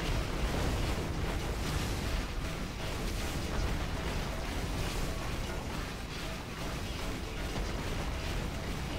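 A continuous loud roar of crashing, rumbling impacts fills the whole stretch as fireballs strike rocks during a boss battle in Final Fantasy XVI, with no pause or quiet moment.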